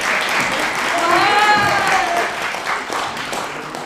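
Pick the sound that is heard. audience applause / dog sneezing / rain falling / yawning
audience applause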